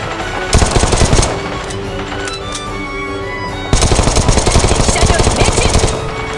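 Loud, rapid bursts of automatic gunfire rattle close by in two long volleys in the game Knives Out, with a brief lull of scattered shots between them.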